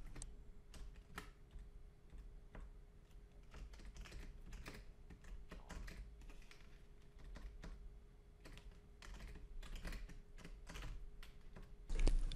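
Someone types on a computer keyboard while writing STM32 microcontroller code, producing a steady run of close, crisp key clicks with brief pauses and a heavier tap near the end.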